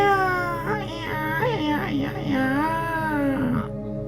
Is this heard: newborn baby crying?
yes